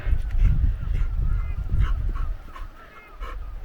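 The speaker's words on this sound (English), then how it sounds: "That's fine, you keep barking." Dogs near a village walk bark in a short burst of several loud, close woofs and yips, fading somewhat toward the end with no talking.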